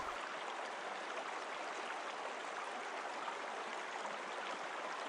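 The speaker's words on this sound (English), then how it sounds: "the relaxing sounds of the water lapping at the bank is so peaceful" Continuous flowing river water laps at the bank, rushing and babbling steadily, a dense, even wash of sound with no voices or breaks.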